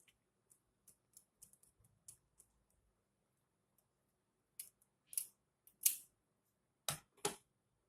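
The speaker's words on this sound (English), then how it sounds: "This strip is pretty big, so this should be cut." Scissors snip a large paper strip into pieces, a few faint clicks early on, then several louder, sharp cuts close by near the end, with no talking.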